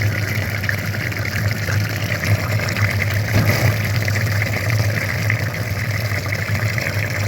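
Water flushing dirt through the heater core of a VW Passat B8, a steady rushing flow over a low continuous hum, constant and fairly loud with a slight surge midway.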